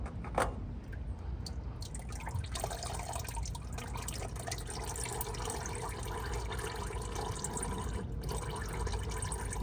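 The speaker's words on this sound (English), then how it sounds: "Let it drip out a little bit of the filter" Motor oil dripping from the oil filter of an Acura TSX during a tune-up, a quiet, continuous liquid trickle with faint drips and low background noise.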